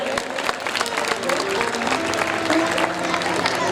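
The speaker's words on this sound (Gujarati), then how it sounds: "એકવાર અમારા ફ્રેન્ડ્સ ગ્રુપ માટે જોરદાર તાળી થઈ જાય" Steady applause from a crowd at a Gujarati folk dayro program in Morabhagal, sustained and fairly loud throughout with a general crowd murmur beneath it.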